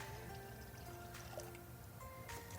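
Water is poured from a cup onto sugar in a pot to start a lemongrass syrup, a soft, quiet trickling fill with faint drips over about three seconds, heard alone without talk.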